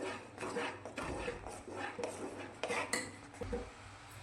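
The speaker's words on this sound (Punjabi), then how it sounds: "ਹੁਣ ਆਪਾਂ ਲਗਾਤਾਰ ਚਲਾਉਂਦੇ ਹੋਏ ਨਾ ਇਦਾਂ ਹਿਲਾਉਂਦੇ ਹੋਏ ਤੇ ਮਿਕਸ ਕਰਦੇ ਹਾਂ" Semolina breakfast being stirred in a pan, with repeated soft scraping and clinks of a utensil against metal in an irregular rhythm, close and fairly quiet.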